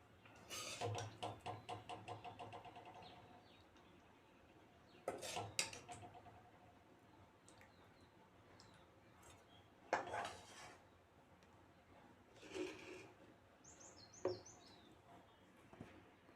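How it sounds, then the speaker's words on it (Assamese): Soya chunk and potato curry is served onto a plate, with a ladle or spoon clinking against the pot and plate in a dense burst at the start, then scattered sharper knocks and scrapes between quieter gaps. "এতিয়া মই এখন প্লেটত উলিয়াই ল'ম"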